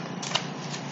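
A Rider-Waite tarot deck is shuffled by hand, giving a brief, close, continuous papery riffle of cards lasting about a second, with no talking.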